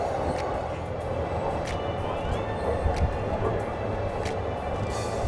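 Continuous rumble and rattle of an ordinary passenger train climbing onto an elevated track, steady and fairly loud, with faint clicks and a rising whine.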